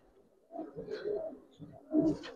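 A pair of Sabji Dobaj pigeons cooing close by, soft low throaty coos in three or four short phrases with brief pauses between.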